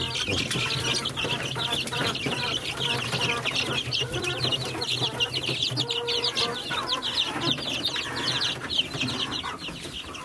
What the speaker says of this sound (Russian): Еще одна курица вышла из старого курятника